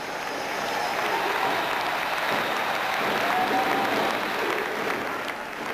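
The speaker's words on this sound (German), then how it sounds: "Der Jubel war dementsprechend groß." An ice hockey crowd at an EV Landshut versus Dresden game roars and applauds after a goal, a dense, steady wall of cheering and clapping that fills the arena.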